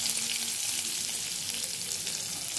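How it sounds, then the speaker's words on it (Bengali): Chopped onion with nigella seeds and bay leaves is stirred into hot oil, giving a loud, even, close sizzle with light stirring. "একটুখানি জাস্ট পেঁয়াজটাকে একটু তেলের মধ্যে মিশিয়ে নেব, ভাজবো না, মিশিয়ে নেব।"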